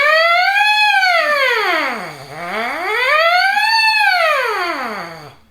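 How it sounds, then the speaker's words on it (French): A trumpeter's lip-buzzing siren warm-up: the buzzed pitch glides up, swoops down to a low growl, climbs again and drops once more, two smooth wailing arcs, close and loud with no voices. "Moi, je fais souvent la sirène"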